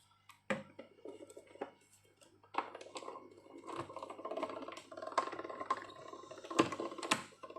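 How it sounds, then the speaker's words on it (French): A die-cutting machine rolls a metal die plate over card stock for a Christmas card, making a run of soft mechanical clicks and rattling crunches at close range. "Vous mettez votre plaque par-dessus et on va passer ça dans la machine"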